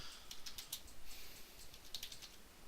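A command is typed on a computer keyboard, with faint, close, quick clusters of key clicks in irregular bursts.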